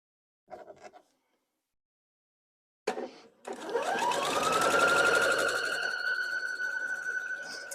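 Sewing machine stitching a table runner, starting after a brief gap with a steady, continuous whirring run that holds for several seconds at close range.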